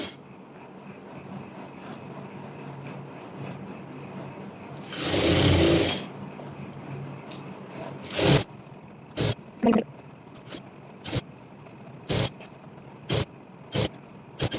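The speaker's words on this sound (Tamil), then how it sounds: "இந்த குட்டி பீஸ் எக்ஸ்ட்ராவாக எடுத்த பீஸ் அண்ட் நம்மளோட மெயின் ஃபேப்ரிக்கில் எங்கே நம்ம கம்மியாக இருந்துச்சோ அந்த இடம் ரெண்டுத்தையும் ரைட் ஆன் ரைட் வச்சு ஸ்டிச் கொடுக்குறோம்" A sewing machine stitches two fabric pieces together right sides facing for a circular maxi dress, a steady close mechanical whir running under a quiet room, then broken into short bursts with a few brief clicks and rustles.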